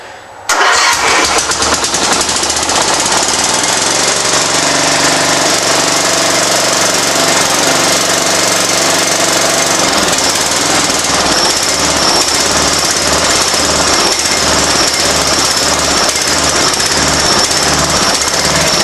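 Craftsman II lawn mower engine starts up and runs loud and close, a harsh rapid rattling chug holding steady at high revs throughout without letting up.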